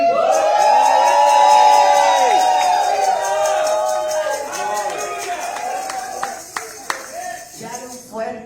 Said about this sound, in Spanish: Is there anybody here that can shout y with joy